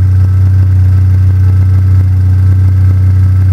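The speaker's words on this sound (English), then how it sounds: "Engine starts. First pop." A Pontiac Solstice with an EFR turbo upgrade runs loudly close by, a steady deep engine drone that holds evenly throughout with no talking.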